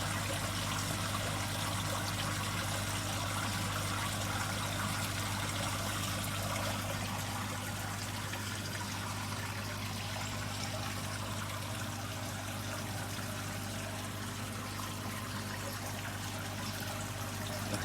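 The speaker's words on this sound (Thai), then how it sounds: "เสียง ค่อนข้างดังอยู่เหมือนกันนะครับเนี่ย อาจจะเป็นเพราะว่า น้ำเพิ่งเข้ามา เดี๋ยวรอน้ำเติมชั้นล่างให้เต็มก่อน" Water pours steadily into a koi pond filter box, a continuous rushing trickle that stays fairly loud and close throughout, with no voices.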